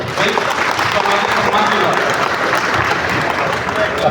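Dense, sustained applause from a seated crowd at a police meeting in an SP office, loud and steady throughout with no pauses.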